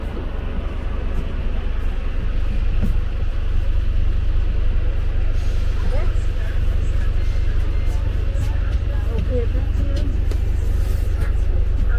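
City bus number 95 pulls up at a stop in South Kensington, a loud, close, low engine rumble that holds steady throughout, with faint voices in the background.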